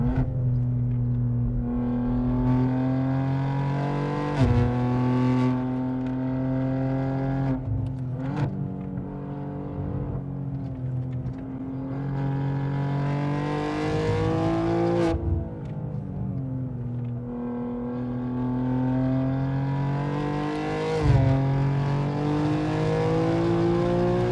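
A 711 hp BMW G87 M2 Clubsport howls along the Nürburgring Nordschleife, heard close and loud from onboard, its engine note climbing and dropping repeatedly through gear changes and lifts with no talking.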